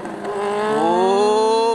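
Kawasaki H2 motorcycle revving hard with a rising, steady engine pitch as it lifts into a wheelie at a morning riders' meet-up near Kolaghat bridge, loud and close, with faint voices in the background.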